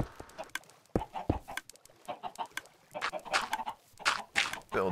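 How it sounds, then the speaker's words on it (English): Chickens clucking in Minecraft: a string of short, separate clucks and squawks in an irregular rhythm, close and fairly clear, with no talk. "Their clucks changed a little bit too."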